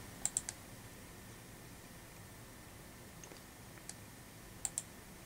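Computer mouse clicks, a few sharp, faint clicks spread over a quiet room, with a pair of quick clicks at the start and another pair at the end, no talking.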